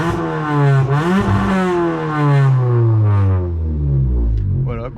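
Suzuki Swift Sport 1.6 136 hp with a full exhaust and half-line system, its engine revving up loudly, falling, then rising again in close, throaty sweeps.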